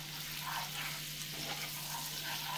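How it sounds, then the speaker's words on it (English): Butter melts and sizzles in a pan on a stovetop, giving a continuous, even frying hiss that stays steady and close throughout. "if you've ever melted butter on a stovetop, it has like a low or a high burn"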